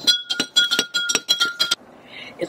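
A spoon clinks rapidly against a glass while stirring sugar into homemade lemonade, about a dozen bright, close metallic taps in quick rhythm, then a soft fizzy settle as the stirring stops.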